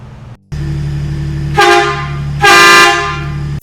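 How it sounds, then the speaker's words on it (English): Pacbrake dual semi-truck air horns fitted to a Ford F-150 Tremor sound over an idling engine, giving two loud, brassy, harmonic blasts close up, the second blast longer and louder than the first, with no talking. "Pacbrake's dual semi-truck air horn system on Fenrir"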